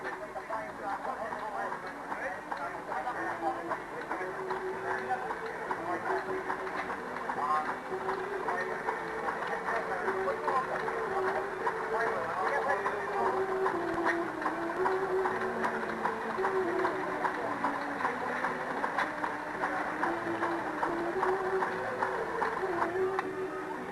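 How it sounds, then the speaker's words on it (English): Large grindstone driven by a Crosley diesel engine at a country festival exhibit, a steady mechanical chugging and whirring with a rhythmic ticking beat, partly under someone talking. "What we're looking at here is the largest known grindstone, being driven by a Crosley diesel engine."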